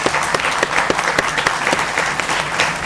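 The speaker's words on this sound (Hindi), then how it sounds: "तो इस देश की मातृशक्ति के लिए जोरदार तालियां भाई." An audience at a staged news-channel Independence Day event claps, giving a steady, dense round of applause with no break throughout.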